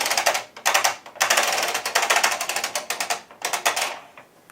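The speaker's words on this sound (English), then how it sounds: "So you go ahead and you knit across slowly." Carriage of an Ultimate Sweater Machine knitting slowly across a row: close, loud rapid clattering and ratcheting in quick repeated bursts, broken by brief pauses, with no talking.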